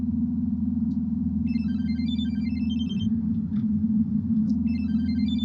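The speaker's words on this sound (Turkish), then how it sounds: "Telefon çalıyor yine." A telephone rings indoors with repeated electronic trilling bursts in two rings separated by a pause, sounding over a steady low background hum, with no one speaking.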